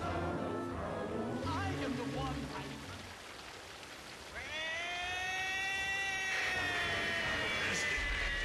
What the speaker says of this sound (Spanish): acaba de sonar la alarma del gato